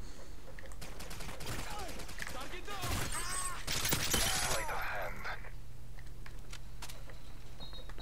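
Gunfire in Call of Duty: Modern Warfare 3 during a Kill Confirmed match on the Village map, a dense cluster of shots and cracking bursts in the middle, moderately loud amid quieter game ambience, with faint voices.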